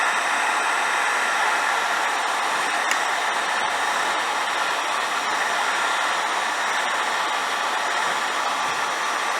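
A cheap hardware-store heat gun blows hot air across the coating on an old aluminum canoe during restoration, a steady, even hiss and whir that runs unbroken at close range with no one talking.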